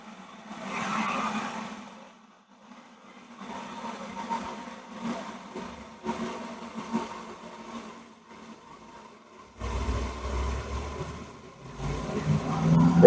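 Motor vehicles pass by outside a home garden, with a rising engine rumble and revving that swells loudly toward the end, heard from a moderate distance amid quieter stretches.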